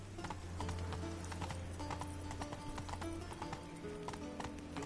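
Roach, a horse in The Witcher 3, gallops along in a quick, steady clip-clop of hooves under a low ambient hum, with no voices present.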